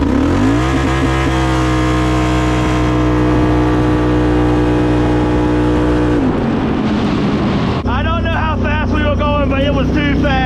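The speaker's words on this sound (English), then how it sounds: "We were straight up just bouncing off the rev limiter." Can-Am and CFMoto UTV engines race side by side, held at full revs against the rev limiter in a loud, sustained buzzing wail, then cut briefly before a stuttering, bouncing rev limiter burst returns.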